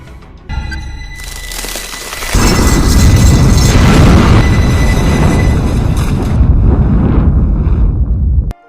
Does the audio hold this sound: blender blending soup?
no